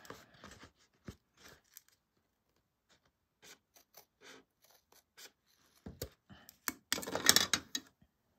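Scissors cutting a small slit in folded stabilizer fabric for a bag: sparse, quiet snips and clicks separated by silences, then a denser, louder cluster of cuts near the end.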